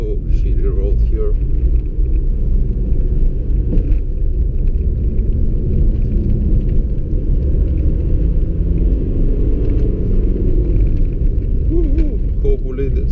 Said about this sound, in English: here the road is really bumpy